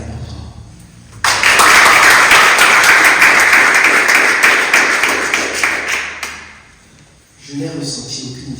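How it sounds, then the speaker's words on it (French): A church congregation erupts in loud, sustained applause and cheering for Jesus, a dense burst lasting about five seconds before fading, with a voice speaking briefly afterward. "Est-ce que tu peux acclamer pour Jésus?"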